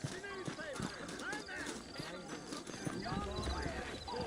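Horse hooves clip-clop in the Wild West video game Red Dead Redemption, a steady trotting rhythm running the whole way under near, continuous conversation, with an occasional whinny.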